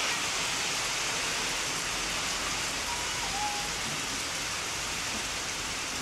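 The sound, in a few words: strong wind and rain during a typhoon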